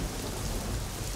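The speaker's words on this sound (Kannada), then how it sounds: "ಮಳೆ ಜೋರಾಗ್ತಿದೆ." Heavy rain falls in a thunderstorm, a dense, continuous roar with a low rumble of thunder beneath it, steady throughout the brief moment with no voices.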